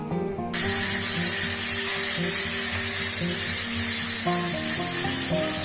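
Green peas hit hot Fortune oil in a kadai with a sudden loud sizzle that settles into steady, crackling frying, with faint clinks of stirring near the end.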